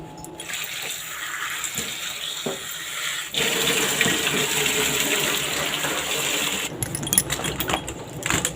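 Running tap water splashes steadily as tomatoes are washed in a home kitchen, a continuous close rush that grows louder partway through, with no talk.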